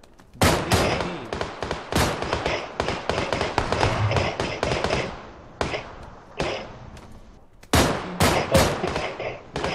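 Rapid bursts of gunfire from PUBG Lite crack in irregular clusters, loud and close, with brief gaps between volleys; a voice is faintly heard amid the shots.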